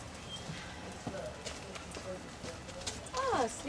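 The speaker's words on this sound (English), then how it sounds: "Ah, sleepy horse." Horse hooves clop slowly at a distance while a person talks, and a brief whinny-like call rises near the end.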